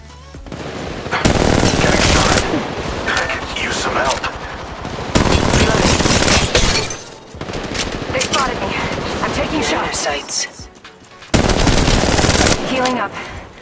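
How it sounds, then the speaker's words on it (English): Automatic weapon fire in Apex Legends erupts in three loud, sustained bursts of rapid shots, separated by short gaps filled with quieter game sounds and scattered talking. "They're shooting at me!"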